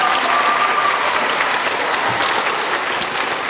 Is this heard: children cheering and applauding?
yes